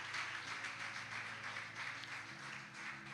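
A church congregation applauds after a prayer, a soft, continuous wash of many hands clapping at a distance, fairly quiet and even throughout.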